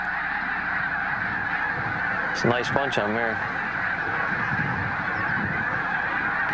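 Several geese honk in a short burst over steady wind and background noise, and a person speaks briefly.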